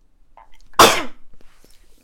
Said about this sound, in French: il faut que j'éternue un coup